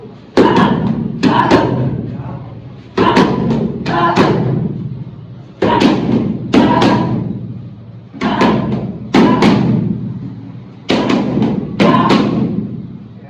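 Boxing punches thud into focus mitts in repeated combinations, sharp close impacts grouped in bursts of three or four with short pauses between rounds, and no talk.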